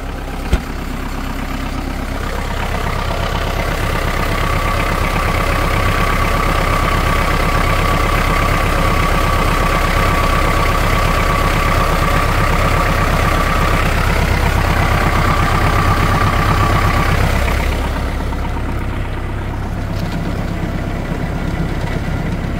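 A Kubota KL380 machine runs with its power take-off engaged in fourth gear and forward rotation: a loud, steady engine drone with a constant tonal hum that eases and thins out toward the end, with no talking.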